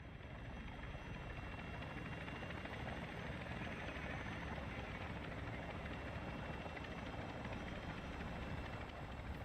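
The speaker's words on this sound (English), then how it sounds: "Be advised, the enemy attack helo is approaching your location." Enemy attack helicopter in the Call of Duty DMZ video game, a steady loud rotor drone with engine whine that holds constant throughout, no voices over it.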